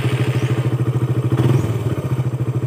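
A Raider 150 carbureted manual-clutch motorcycle engine idles close by with a fast, even thumping putter, briefly swelling mid-way before settling back, with no talk.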